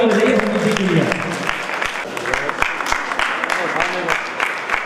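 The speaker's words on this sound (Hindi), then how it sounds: "जोरदार तालियां बजाइए समिति के लिए।" Applause from the crowd at a Daughters' Day honoring ceremony at CK Birla Hospital in Jaipur, scattered clapping under a speaking voice and a music-like tone at the start, with sharp individual claps standing out.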